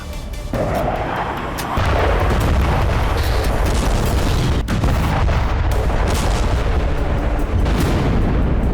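A continuous roar of heavy booms and blasts at a Russian Sarmat missile base in Tver, loud and sustained, with rumbling low end and sharp bursts breaking through; no voices.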